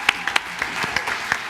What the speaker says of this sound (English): How about a round of applause for Mr. Gefke running our microphones and the sound all night.